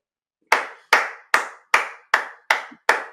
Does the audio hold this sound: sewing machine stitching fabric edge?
no